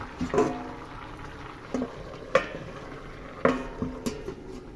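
Water heating in a pot for a Bengali pui shak (Malabar spinach) curry bubbles softly at a low simmer, broken by several sharp knocks and clinks of metal against the pot.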